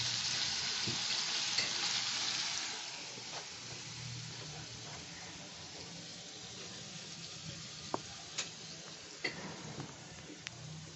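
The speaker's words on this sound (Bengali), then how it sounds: "জলটাও ফুটে উঠেছে" Curry gravy for prawn fritters simmering after water is added, a low steady bubbling with a brief louder burst at the start and a few light clinks and taps later, no voices.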